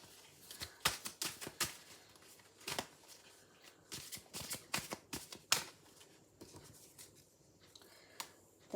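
Tarot cards being handled and laid out: close, soft flicks, slides and taps come in uneven bursts with brief pauses between, quiet and without talk.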